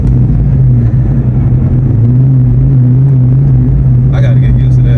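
A 2003 Mustang SVT Cobra with a twin-disc clutch and manual gearbox, its engine droning low and steady inside the cabin while driving, with a brief higher sound near the end.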